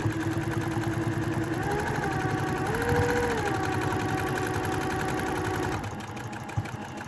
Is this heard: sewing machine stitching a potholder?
yes